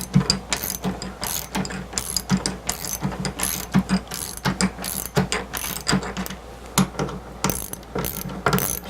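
Ratchet wrench clicking rapidly in repeated bursts while bolts with nuts and washers are started on the back of a wooden Star Wars arcade cabinet, close and crisp with short pauses between strokes and no talk.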